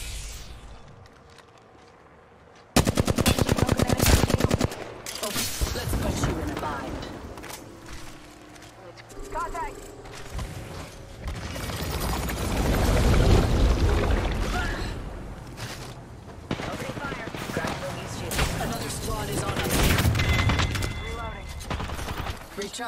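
Bursts of automatic gunfire and single shots in a futuristic battle-royale shooter, loud and close, coming in clusters over about twenty seconds with mechanical clatter and footsteps between volleys, while a voice talks underneath.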